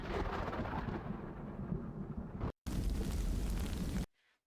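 Thunder sound effect from the Clipchamp app: a loud, continuous low rumble with rain-like hiss, cut off briefly near the middle, then resuming before ending abruptly.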